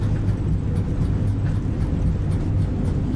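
An airliner landing at Brasilia, thrust reversers roaring and brakes engaged, a loud continuous low rumble and rush that stays steady and dense throughout.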